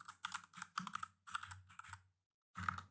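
Rapid typing on a computer keyboard during a coding session, close and crisp keystrokes in several quick runs separated by short pauses, with no voices.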